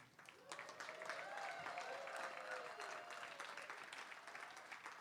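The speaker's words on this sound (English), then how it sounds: "You can applaud anytime you want." Congregation applauding in a church service, steady clapping from a crowd that swells and holds for several seconds, heard from a distance and fairly quiet.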